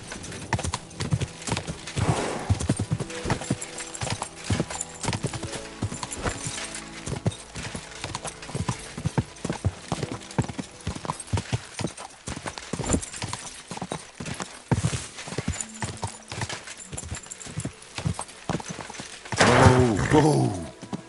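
Horse galloping in Kingdom Come Deliverance, fast rhythmic hoofbeats clattering loud and near for the whole stretch, with a whinny and heavier thuds near the end and brief shouted voices.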